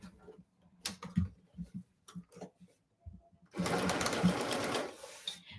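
A sewing machine stitching fabric runs in a steady, rapid whirring burst near the end, after a stretch of quiet clicks and handling sounds.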